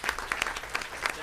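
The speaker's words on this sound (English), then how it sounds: "How about one more round of applause?" Brief, scattered clapping from a modest audience at a school district board meeting honoring students, with a few distinct hand claps rising over a quiet room.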